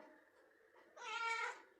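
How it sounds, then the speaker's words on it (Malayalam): A cat gives a single short meow at close range, faint and alone, preceded by soft low murmuring. "മനുഷ്യരുമായിട്ട് കമ്മ്യൂണിക്കേറ്റ് ചെയ്യാനാണ് പൂച്ചകൾ ഈ മ്യാവൂ എന്ന ശബ്ദം പുറപ്പെടുവിക്കുന്നതെന്ന്"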